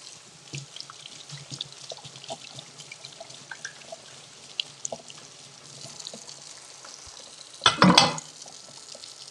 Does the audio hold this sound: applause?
no